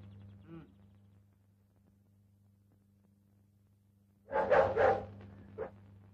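A dog barks in a short cluster of loud, close yaps late in a quiet indoor film scene, with a faint voice-like sound earlier and a steady low hum underneath.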